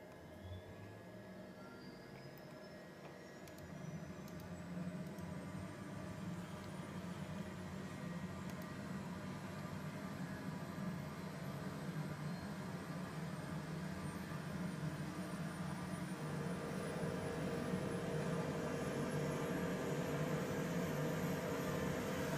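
H135 helicopter engine starting up in Microsoft Flight Simulator, a low hum that swells after a few seconds while a rising whine climbs steadily as the turbine spools up.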